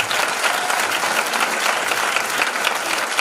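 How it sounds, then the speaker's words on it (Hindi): An audience at a Hindi business-plan seminar applauds loudly and steadily: dense, continuous clapping from many hands through the whole stretch, with no pauses. "हमारे पुराने साथी जब दमदार ताली बजाएं इनके लिए"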